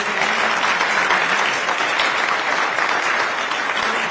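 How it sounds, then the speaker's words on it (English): A room full of people applauds panelists at a public meeting held at a community college, steady dense clapping filling the whole stretch at close range with no voices over it. "Let's give them a great round of applause"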